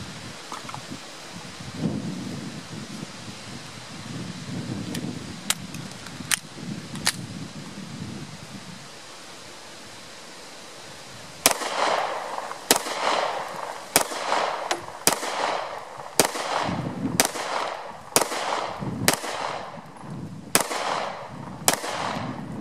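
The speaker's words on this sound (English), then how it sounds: "I'm going to fire another magazine at that same distance." Taurus G2C pistol emptying a magazine, a series of about a dozen sharp, loud reports at uneven intervals, close and echoing outdoors, with a few fainter shots earlier.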